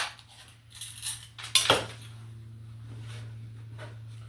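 Metal camping cutlery, a spoon-fork combination, is handled with soft rattles and then one sharp clink, followed by quieter shuffling and a steady low hum.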